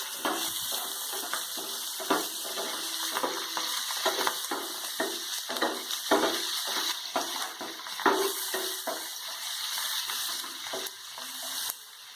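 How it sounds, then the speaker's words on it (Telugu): Coriander, curry leaves and onion sizzling in hot oil for a coconut mango chutney tempering, a steady crackling fry with repeated scraping stir strokes throughout, close and alone. "కొత్తిమీర, కరివేపాకు, ఆనియన్ వేసుకొని బాగా వేయించుకోవాలి"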